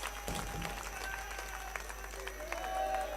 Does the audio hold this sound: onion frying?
no